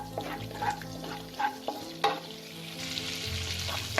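Whole cardamom pods and small pieces of cinnamon stick fry in hot oil for a butter chicken base, with scattered pops and sizzles, a few sharp clinks of a utensil, and a steadier crackle building toward the end.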